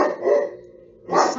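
Alarmed household dogs bark at activity outside: a near, drawn-out bark fades into a pause, then another sharp, loud bark breaks in.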